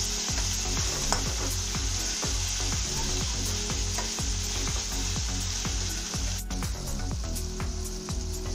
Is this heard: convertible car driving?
no